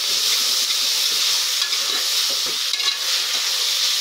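Food frying and being stirred in a pan for a Tamil bachelor-style morning dish, with a steady close sizzle and scraping stir strokes running continuously throughout.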